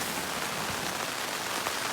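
Steady rain patters on a tent during a night on the Appalachian Trail, a dense, even hiss of drops with no pauses, close and enveloping with no voices.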